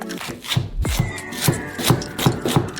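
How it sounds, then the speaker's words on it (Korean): A knife cuts chives lengthwise on a board with a steady series of close, crisp chopping taps, about two per second, plus some rubbing of the leaves. "반으로 자르고 줄기를 따라 잘라주고"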